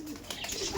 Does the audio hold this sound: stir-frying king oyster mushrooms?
no